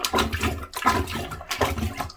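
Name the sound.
plunger plunging a drain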